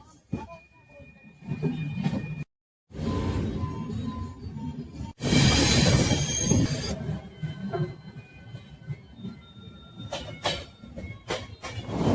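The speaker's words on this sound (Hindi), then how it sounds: "और ये है कालिंदी एक्सप्रेस, जो कि दीवान से प्रयागराज जाती है।" The Kalindi Express passenger train passes on an Indian railway line with a broad, surging rumble and rush of wheels, swelling loudly midway and then fading into a steadier roll with faint tonal squeals.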